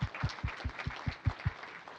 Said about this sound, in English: let's give them another big round of applause for being our supporters